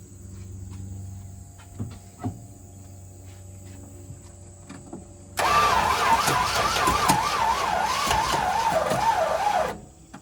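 A car's starter motor whirs and cranks for about four seconds with a wavering, strained pitch while the engine fails to catch, after a quiet stretch with a few faint clicks and a steady background hum.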